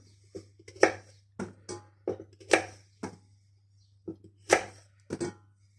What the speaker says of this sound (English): All we're doing is the big ones, cut them in half, and the little ones I'm going to throw in whole